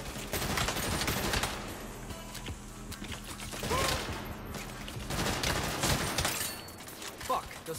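Sniper and rifle fire in the video game Saints Row, scattered sharp cracks and bursts over busy mechanical clatter and battle noise, with shots landing close and loud throughout.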